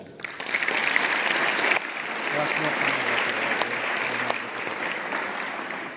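An audience at a school farewell day gathering in Sonepur claps after a speech, a dense, sustained round of applause from a sizeable crowd that stays strong throughout with slight swells.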